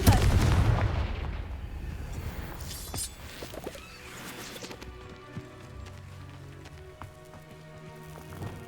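A Confringo blasting spell bursts in Hogwarts Legacy with a loud, dense explosive boom up front. It then fades into a rumbling tail of scattered crackles and debris clatter.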